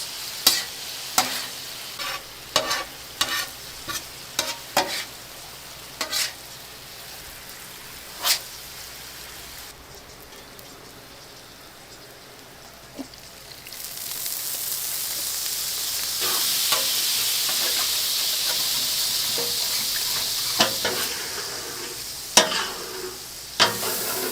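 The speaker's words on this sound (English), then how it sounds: "Now we're reducing the sauce." Hibachi sauce reducing on a hot griddle, a steady sizzle punctuated by sharp scraping and tapping of a spatula, the sizzle swelling louder in the second half, with no talk.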